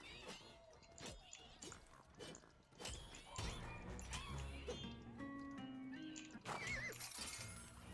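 A donkey mount whinnies loudly in Minecraft Legends amid crashing combat noises, thuds and clip-clopping hooves, with game music underneath and several sharp impacts.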